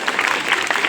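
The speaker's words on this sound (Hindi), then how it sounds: "जोरदार तालियां बजाओ।" An audience at a school Republic Day event claps in one short, dense, steady burst that sounds close and fairly loud.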